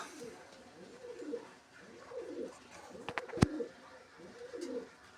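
Galar pigeons kept with their young coo in repeated soft, low, rolling calls close by, with a brief sharp knock partway through.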